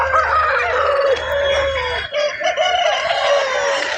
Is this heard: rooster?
yes